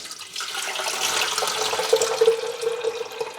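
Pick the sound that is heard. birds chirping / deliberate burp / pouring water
pouring water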